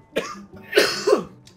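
Cough in a French spoken role-play game session, a few short bursts spread across a second and a half, moderately loud and close, alone without talk.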